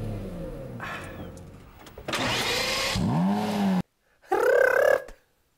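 A Lamborghini Murcielago fires up with a sharp burst, then revs hard in rising, roaring sweeps, cuts to near silence, and revs once more loudly before dropping off.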